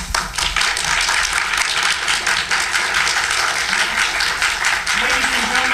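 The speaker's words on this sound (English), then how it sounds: "let's have a round of applause for all our participants today" An audience breaks into loud, dense clapping for the participants of a Walt Whitman Civil War performance, steady applause close by with a voice surfacing briefly near the end.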